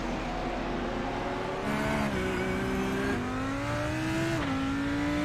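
GT3 race cars circle the Road America circuit, engines holding a steady high drone with rising pitch as they accelerate and shift, several cars overlapping at a moderate distance.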